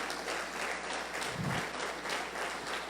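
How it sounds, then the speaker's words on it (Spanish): A congregation claps loudly during a church service, a continuous wash of applause from many hands, fairly distant and even, with a brief low thump partway through. "Dale un fuerte aplauso al Señor Jesús."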